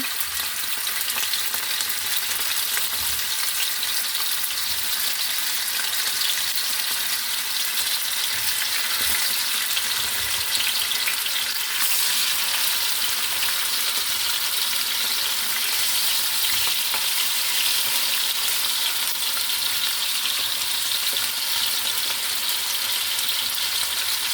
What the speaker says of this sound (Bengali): যে পাঙ্গাস মাছ রান্না করব এটা আমি সামান্য ভেজে নেব